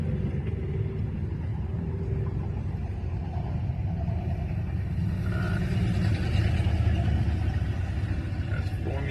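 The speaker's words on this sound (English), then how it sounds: "Now it's time to be riding a convertible" A Chrysler convertible driving with the top down, its engine a steady low rumble under constant wind and road noise, close and continuous throughout.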